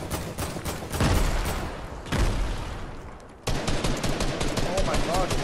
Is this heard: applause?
no